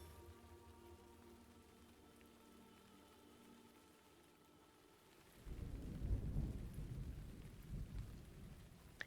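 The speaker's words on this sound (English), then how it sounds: "It's getting still rainy, but less noisy and lightningy outside." Steady rain falls outside during a storm, with a low rumble of distant thunder rolling in partway through and swelling louder before easing, with no voices.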